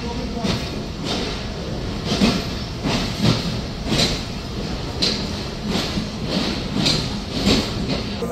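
Banglabandha Express, a white PT Inka rake, being drawn up to platform 4 at a station, with rhythmic clanking and clattering of the coaches at close range, steady and repeated throughout.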